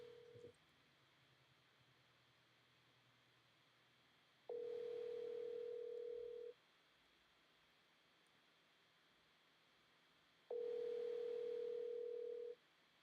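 Outgoing phone call ringing on the line, two long steady ring tones spaced several seconds apart with quiet gaps between them.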